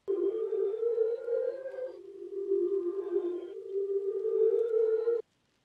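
A reversed synth lead one-shot from Nami's kit swells in as a clean, sustained tone with bright harmonics, shifting pitch slightly twice before cutting off abruptly after about five seconds.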